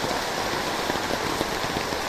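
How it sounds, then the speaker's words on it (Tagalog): Heavy rain pours down hard and steadily, a dense close hiss of drops drumming on surfaces, with no break. "Grabe, lakas ng ulan."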